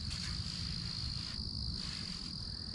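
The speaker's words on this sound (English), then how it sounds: "Can't hear anything now but the crickets." Steady, continuous cricket chirring fills the night air in the woods along the Appalachian Trail in Pennsylvania at a constant level, with a soft low rumble underneath and no voices.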